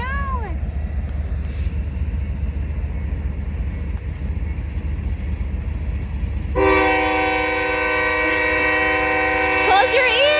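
A slow-moving train rumbles past close by, then its multi-tone horn blasts loudly and steadily for several seconds. Squeaky, meow-like voices cut in near the start and end.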